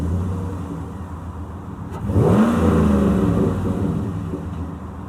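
A 2010 Chevrolet Silverado 1500 LTZ 4x4 with a 6.2L V8 rumbles low and steady, then swells into a louder rev as it pulls away and keeps driving nearby.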